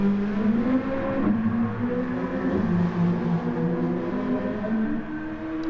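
A Gr.2 race car engine in a racing game drones loudly and steadily, pitch rising and falling with throttle changes, close and continuous without any voices.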